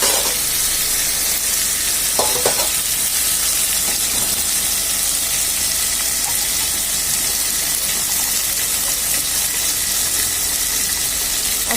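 A spice paste fries hard in a pan for a ghugni of peas and potatoes, giving a loud, continuous hiss and sizzle with an occasional scrape or knock of the stirring spoon.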